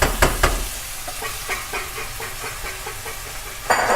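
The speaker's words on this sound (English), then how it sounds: "As you see, they're starting to steam open and the liquid's coming out of the mussels." Mussels steam in white wine in a covered pan, giving a steady soft hiss and sizzle with scattered faint clicks of shells and a brief clatter near the end as the pan is moved.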